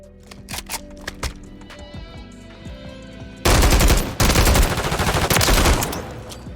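Gunfire in a first-person video game on PlayStation 5: scattered single shots over game music, then loud sustained automatic bursts with a brief gap between them.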